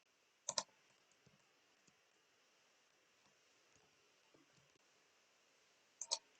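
Computer mouse clicks while drawing a skirt belt in Illustrator: two quick, faint double clicks, one near the start and one near the end, with a quiet room hush between them.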